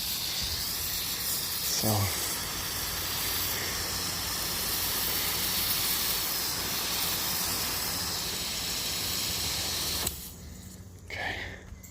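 A soft wash sprayer hisses steadily as it sprays cleaning solution onto a roof, a constant close spray noise that stops abruptly near the end, with a brief spoken word and a clunk early on.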